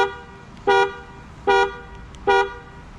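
A 2025 Mahindra Thar horn, sounded from the key fob button, honks three times in short, evenly spaced toots, loud and close, over a low background hum.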